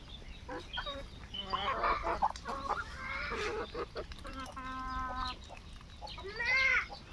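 Farmyard hens cluck and squawk while pecking and scuffling with a duck, agitated calls in bursts with a louder flurry near the end, a voice faintly in the background.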